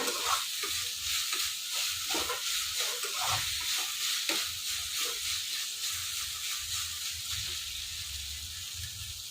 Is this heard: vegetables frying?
yes